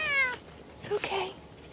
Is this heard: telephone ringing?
no